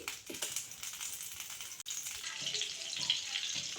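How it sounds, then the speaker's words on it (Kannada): Butter dropped into a small amount of hot oil in a heated pan, giving a steady, close sizzle and crackle that builds slightly toward the end, with no talking. "ಅದ್ರ ಜೊತೆಗೆ ಈಗ ಒಂದಿಷ್ಟು ಬಟರ್ ಹಾಕಕತ್ತೀನಿ"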